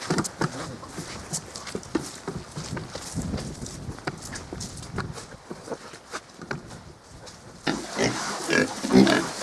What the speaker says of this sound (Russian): Вот эти наши поросятки.